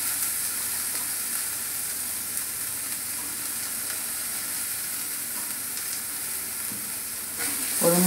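Fried onion and garlic with coriander leaves and garam masala are stirred in a pan for a butter potol dish, giving a steady, close, even sizzle throughout, with a slightly louder burst at the very end.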